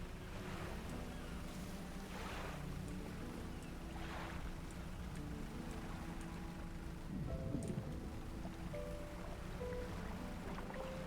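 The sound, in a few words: fishing boat engine running in video game Dredge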